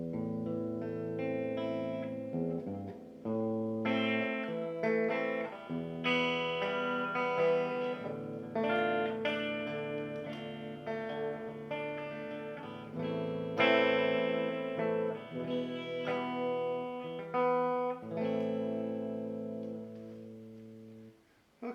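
A Harley Benton SC 450 electric guitar on its bridge pickup, played through an HB-20R amp, rings out in a long solo run of sustained chords and melodic lines with light distortion, loud and close, with no talking.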